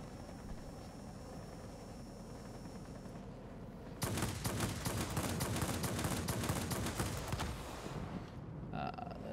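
Rapid bursts of gunfire rake a ship in a Wargaming naval combat game, a dense, loud crackle of automatic shots that starts abruptly partway through and continues over a steady engine drone.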